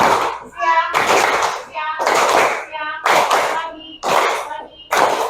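Children in a classroom playing a clapping game, short bursts of hand claps alternating with a teacher's and children's chanted words, about five claps in a regular rhythm, close and fairly loud.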